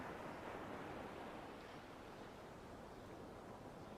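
Ocean waves washing onto a shore, a soft continuous hiss of surf, faint and even, heard alone.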